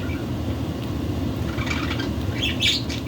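Budgie perched on a person's foot gives a few faint, high chirps near the end, over a steady low background rumble.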